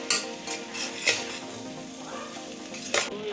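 Vegetables fry in a pan for fried rice over low heat, a close, soft steady sizzle broken by a few stirring scrapes and clinks of a utensil, with no talk.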